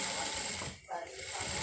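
A sewing machine runs a double seam along the side of a round maxi dress, a short burst of quick mechanical stitching with a brief pause in the middle.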